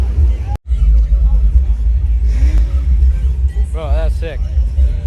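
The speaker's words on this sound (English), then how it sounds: "There's a race car for real." A race car engine rumbles at Bimmerfest, a BMW car show, low and steady beneath busy crowd chatter, with a brief revving swell near the end while people talk nearby.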